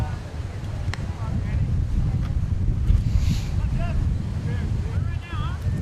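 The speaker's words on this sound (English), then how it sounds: "You can probably hear the wind in the background there." Wind rumbling and gusting against the microphone outdoors at a high school baseball game, a steady low roar with faint higher noises drifting through.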